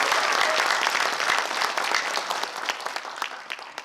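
Dense, sustained applause from a large audience at a Korean launch ceremony for a cinema and culture event, steady and loud for several seconds before thinning slightly toward the end.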